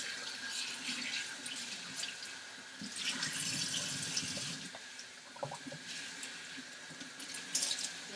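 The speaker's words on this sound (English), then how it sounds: "Let me rinse some of this out." Dyed fabric is rinsed under a running tap into a sink, a steady close splash of water with shifting gurgles and drips as the cloth is worked, no voices.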